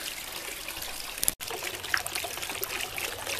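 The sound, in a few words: concrete garden water fountain trickling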